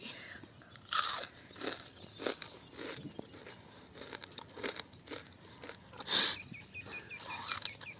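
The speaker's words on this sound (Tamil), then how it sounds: "எவ்வளோ மொறு மொறுன்னு இருக்கு பாருங்க அப்படியே உடச்சா அப்படியே நொறுங்குற அளவுக்கு இருக்குது" Crispy fried sea clams (clam 65), coated in ginger-garlic masala, are bitten and chewed up close, giving repeated sharp crunches and crackly chewing in an outdoor village setting, with faint background noise.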